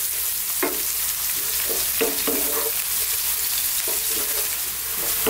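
Vegetables sizzling in a pan on medium heat for shakshuka, a steady loud fry with occasional stirring scrapes, close up and alone.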